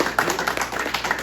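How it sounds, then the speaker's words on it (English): A crowd applauds a local sports team at a village council meeting, giving a brief burst of close, steady hand clapping inside a meeting room. "So we want to applaud you guys tonight"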